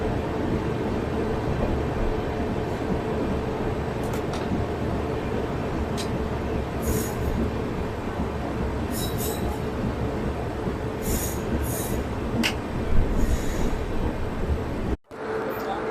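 A passenger train on the Asarva to Udaipur route at Himmatnagar junction in Gujarat rumbles steadily, heard from inside, with occasional wheel squeals and clanks over the continuous roar.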